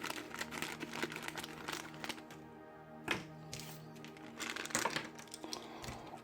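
Beyblade Burst Rise toy parts being unwrapped from plastic packaging, with close, busy crinkling, crumpling and tapping throughout and a sharper rustle near the middle.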